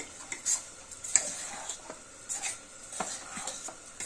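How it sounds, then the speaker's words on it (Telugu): A utensil scrapes and taps in a pan while ridge gourd peel powder is stirred with gram flour, soft irregular scrapes and clinks at close range. "కొంచెం ఇంకొకసారి తిప్పేస్తాను."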